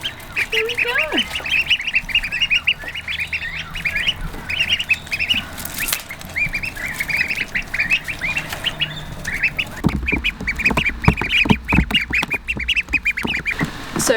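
Ducklings quack and squawk in rapid, overlapping bursts at feeding time, loud and close, with a few louder shuffles and splashes near the end.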